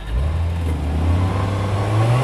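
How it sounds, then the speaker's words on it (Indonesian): A Nissan Livina XR MPV engine starts and revs, the motor humming up through a rising pitch, close and steady without talk. "sekarang tak coba hidupkan mesinnya, teman-teman. Coba tak starter ya"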